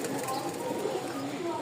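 Moyna Jhak pigeons, a male and female pair, with soft, low cooing close by over a steady, noisy background.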